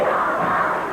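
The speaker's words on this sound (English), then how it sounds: "Crowd hollering, we want Lawler" A wrestling crowd at a 1982 Memphis event hollers and chants in a dense, continuous roar that fills the arena.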